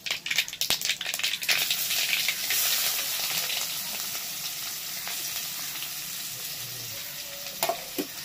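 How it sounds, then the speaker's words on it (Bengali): Chopped raw onion fries in hot oil with bay leaf and five-spice, a loud bubbling sizzle with spatula scrapes and stirring clatter early on, settling into a steady hiss. "পেঁয়াজটা ভালো করে ভেজে নিচ্ছি"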